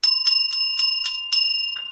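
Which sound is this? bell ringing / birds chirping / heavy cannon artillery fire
bell ringing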